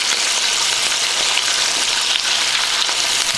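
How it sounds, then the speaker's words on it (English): Loud, steady sizzling of beef heart frying in a pan, a constant crackling hiss with no talking. "I don't really know what I'm doing here, but we're just frying it up."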